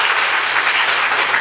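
A dense burst of audience applause fills the moment evenly, loud and sustained with no voices on top.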